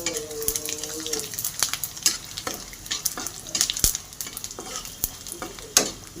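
Whole cumin, coriander seeds and dried red chillies fry in a hot pan for a chicken gravy, giving a steady close sizzle broken by sharp crackles and stirring scrapes, with no talk.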